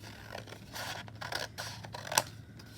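Scissors cut through white card paper for a pop-up card, making close crisp snips and rough scraping slices at an uneven pace.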